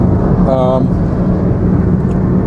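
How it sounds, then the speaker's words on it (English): A loud car with a faulty power steering rack drones steadily throughout, a low rumbling engine and road noise filling the cabin, with a brief whining tone rising near the start. "Excuse the loud sound of my car, it's power steering rack's fucked."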